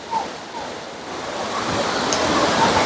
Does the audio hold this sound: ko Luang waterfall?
yes